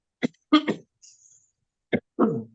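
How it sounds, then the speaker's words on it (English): Several short, sharp coughs close to the mic: a single one, a quick double, then two more after a pause. "Apologies for the cough, allergies"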